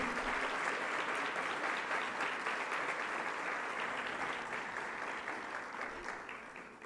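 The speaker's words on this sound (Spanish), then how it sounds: "Démosle un aplauso, por favor, al ministro." Audience at an Ibero-American health law congress applauds the minister, a dense, sustained round of clapping at moderate distance that gradually tapers off over about seven seconds.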